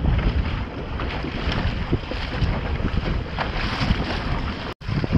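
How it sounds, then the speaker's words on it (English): Steady rush of wind buffeting the microphone while sailing a Drascombe boat on open water, a gust swelling over continuous water and hull noise, loud and close, with a brief dropout near the end. "Ooh, there's a wee gust"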